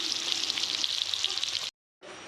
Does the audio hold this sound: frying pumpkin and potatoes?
yes